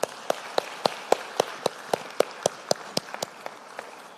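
Clapping from a conference audience comes as a steady, evenly spaced run of sharp claps, about four per second, that stays moderately loud throughout.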